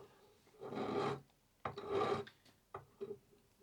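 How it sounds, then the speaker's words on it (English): A metal file rasps on a bezel-setting pendant at a jeweller's bench, three close strokes followed by a couple of shorter scrapes, quiet and with no talking. "Just while I'm filing this bit up"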